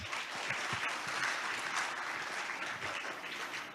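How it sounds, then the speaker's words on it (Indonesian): An audience at a formal Indonesian parliamentary seminar applauds a newly introduced speaker with steady, dense clapping that fills the room at an even level from start to finish. "Tepuk tangan untuk beliau."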